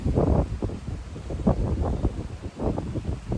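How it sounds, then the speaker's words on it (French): Gusty wind buffeting the microphone in uneven low bursts outdoors beside a beehive, with a soft rustle in the background and no talking. "Alors, il y a un peu de vent"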